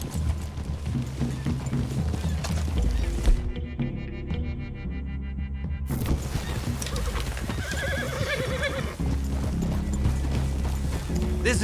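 Horse hooves clop rhythmically alongside snorts and whinnies in Red Dead Redemption 2, with a low background drone and a short lull partway through.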